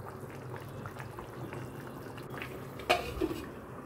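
A lid is set down on a pot of hilsa fish curry cooking over a medium flame. One sharp metallic clink rings out near the end, above a low, steady simmering hiss.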